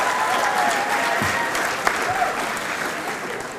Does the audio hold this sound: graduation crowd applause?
yes